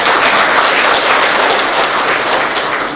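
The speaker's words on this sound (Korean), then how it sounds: "서로에게 박수 한번 주시죠." Business forum attendees gathered on a rainy day applaud one another in a dense, loud, even wash of clapping that holds steady throughout, with no voices.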